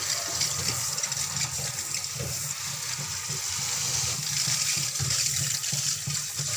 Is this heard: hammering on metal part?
no